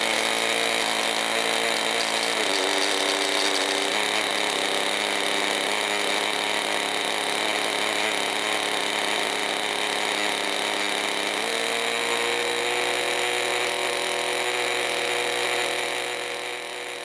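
A 50-year-old RC helicopter's small engine runs steadily at high pitch, with a dense buzzing drone throughout and slight pitch shifts from the belt dragging the clutch, close and loud.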